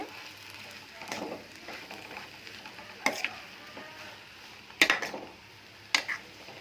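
Potato palya being stirred in a frying pan: a soft, steady sizzle is broken by several sharp spoon scrapes against the pan at irregular intervals, close and fairly quiet, with no voices.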